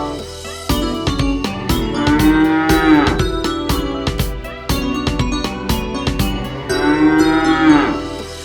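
A cow moos in long, drawn-out calls over a rhythmic backing of percussion and music, the lowing standing out clearly and repeating a few times.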